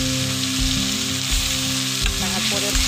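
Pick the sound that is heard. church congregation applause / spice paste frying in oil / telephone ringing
spice paste frying in oil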